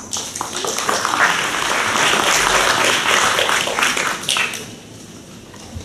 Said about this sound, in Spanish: Recibamos al doctor Santos Urtecho con fuertes aplausos.